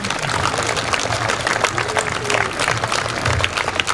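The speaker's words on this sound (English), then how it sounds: "Let's give a huge round of applause to all these little children." Audience at a school sports day applauding, a dense continuous patter of many hands clapping that stays fairly loud and even for the whole stretch, with faint crowd noise underneath.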